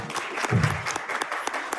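Short burst of applause for a condominium lottery winner, brief scattered clapping close by.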